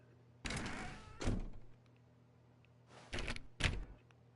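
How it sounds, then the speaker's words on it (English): Door sounds in The Stanley Parable video game: two separate pairs of short whooshing thuds, each a door swinging then shutting, fairly close with quiet hum between. "When Stanley came to a set of 2 open doors, he entered the door on his left."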